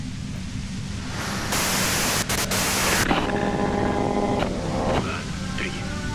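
Radio static in the video game Disco Elysium rises into a loud, broad hiss of white noise for a couple of seconds, amid softer game ambience and tones, with a voice speaking over part of it.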